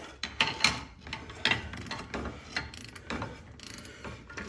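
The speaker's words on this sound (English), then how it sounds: "So I have a torque wrench." Ratcheting clicks from a click-style torque wrench tightening a CV shaft nut on a 1983-1988 Toyota Tercel, coming in uneven bursts of close mechanical ticks with some scraping between them, and no voices.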